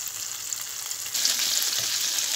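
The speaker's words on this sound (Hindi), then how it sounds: "तो देखिए बहुत अच्छे तरीके से चिकन हमारा रोस्ट हो रहा है।" Pieces of chicken broast frying in hot oil over a medium flame, a steady close hiss and crackle that swells a little louder partway through, with no talk.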